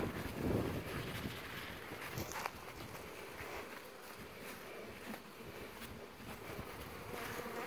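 Bees buzz in a faint, continuous drone, with soft wind and a few light knocks in the background.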